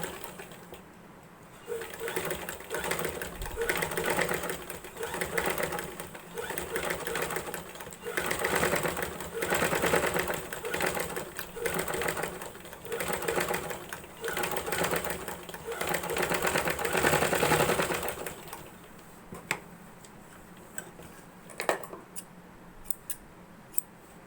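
A sewing machine stitches along the edge of a frock's fabric in a steady, continuous mechanical run that holds for most of the span, then stops and gives way to a few faint clicks and handling sounds.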